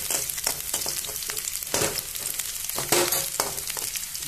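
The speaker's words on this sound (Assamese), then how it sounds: "পিঁয়াজখিনি অকণমান ৰঙচুৱা ৰং উঠালৈকে মই ভাজি ল'ম" Onions with garlic cloves fry and sizzle steadily in a pan, with occasional stirring scrapes and light clinks of a utensil against the metal, and no voices.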